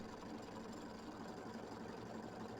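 A machine stitches a mini quilt in a steady, fast mechanical hum with rapid needle pulsing, faint and continuous, with no talking.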